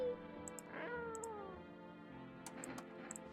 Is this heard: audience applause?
no